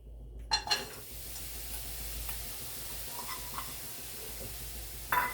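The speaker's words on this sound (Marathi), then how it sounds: "आता आपण ह्यात हे गुळ घालून घेऊया" Jaggery goes into roasted sesame in a pan, giving a faint continuous sizzle with soft stirring and a couple of light utensil taps at the start and again near the end.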